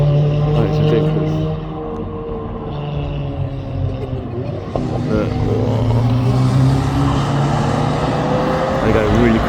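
Fast cars drifting around a corner on a track during a driving experience: a layered engine roar holds steady, then swells and climbs in pitch toward the end, with voices faintly underneath.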